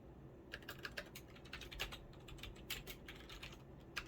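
Keys clacking on a computer keyboard as a command is typed into a terminal, a quick irregular run of light taps close up in a quiet room, no voices.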